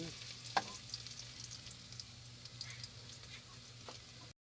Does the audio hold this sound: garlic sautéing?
yes